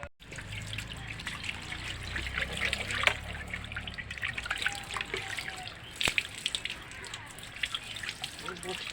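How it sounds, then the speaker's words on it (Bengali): Running tap water trickles and splashes as cut bata fish pieces are rinsed in a sink, a steady wet flow with brief clatters, and a voice speaks over the washing. "মাছ কাটা হয়ে গিয়েছে, আমি মাছটা ভালো করে ধুয়ে নেব।"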